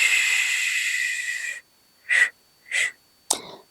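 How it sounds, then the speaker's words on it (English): Deep breathing during a shiatsu therapy exercise: one long, airy, slightly wheezy breath lasting over a second, then two short separate breaths and a sharp final exhale, all close and alone with no talking. "Breathe in and breathe out."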